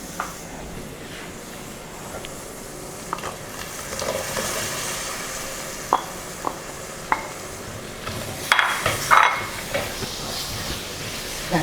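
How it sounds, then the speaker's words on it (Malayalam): Coconut pieces fry in hot coconut oil for a Kerala-style beef curry, a steady sizzle and hiss broken by a few sharp clicks of a spoon against the pan, growing busier and louder near the end. "ഇനി നമുക്ക് തേങ്ങാക്കൊത്ത് ആഡ് ചെയ്യാം."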